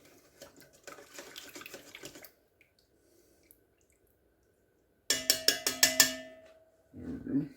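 Water from a jug pours in two short bursts with a splashing, trickling sound, separated by a quiet pause, followed by a brief clatter.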